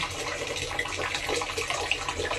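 Discoloured water runs from a tap in the Leninsky district of Donetsk, a steady, close rushing gush without pause.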